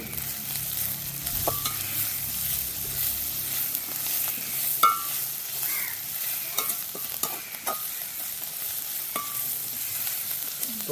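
Onions and green chillies sauté in a pan for a village-style Sri Lankan prawn curry, giving a steady, close sizzle broken by occasional spoon scrapes and light knocks against the pan, with no talking.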